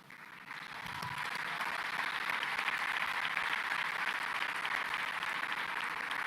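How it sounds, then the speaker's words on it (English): A crowd applauding, the clapping swelling quickly into a steady, sustained wash of applause from a large audience. "Please, round of applause."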